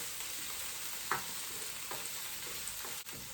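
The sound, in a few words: onions, garlic and spring onions cooking on low heat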